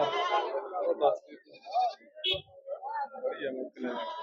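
Goats bleat several times in wavering, nasal calls, close and loud, mixed with people talking nearby.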